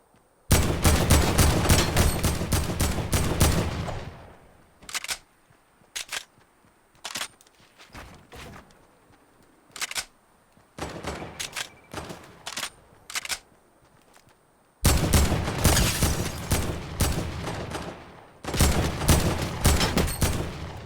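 Rapid bursts of gunfire in a shooting video game come in loud clusters, with dense volleys at the start and end and sharper single shots scattered between them.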